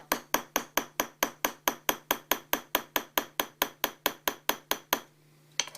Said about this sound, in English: Chasing always refers to hammering the metal from the front.